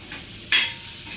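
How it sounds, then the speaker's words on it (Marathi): Paneer tikka pieces roasting on a hot tava griddle give a faint steady sizzle, broken by one brief, louder hissing burst midway. "असं तव्यावरती छान भाजून घ्यायचं."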